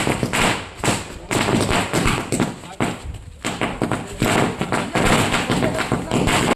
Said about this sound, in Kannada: ಕಾರ್ಯಕ್ರಮದಲ್ಲಿ ಕಾಂಗ್ರೆಸ್ ಅಭಿಮಾನಿಗಳು ಪಟಾಕಿ ಸಿಡಿಸಿ ಸಿಹಿ ಹಂಚಿ ಸಂಭ್ರಮಿಸಿದರು.